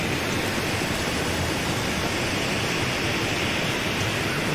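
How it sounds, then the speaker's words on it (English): A waterfall beside a bridge in the survival game The Long Dark gives a steady, dense rushing roar that holds evenly throughout, with no voices. "Obviously, there's a waterfall."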